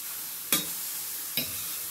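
Mushrooms frying in a pan, a steady close sizzle with two brief scraping clicks as they are stirred and turned, no talking.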